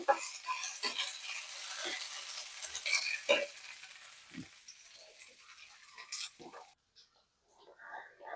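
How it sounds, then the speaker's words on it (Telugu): Cashews and paneer masala frying gently in a pan over a medium flame, with soft sizzling and intermittent stirring scrapes close by, quieter toward the end. "ఇలా చిన్నగా వేపుకోండి మీడియం ఫ్లేమ్లో పెట్టుకుని"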